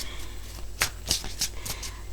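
Tarot cards being shuffled by hand, a few soft riffling bursts in quick succession, quiet and close, with no talking.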